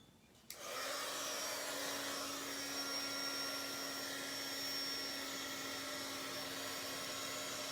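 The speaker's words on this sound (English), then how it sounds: "So let me grab my dryer," A handheld heat tool blasts on with a sudden click and then holds a loud, steady whirring roar with a constant hum, used to dry paint in a Bible journal; it runs alone with no talk.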